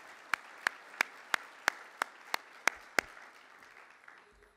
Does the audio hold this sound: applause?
yes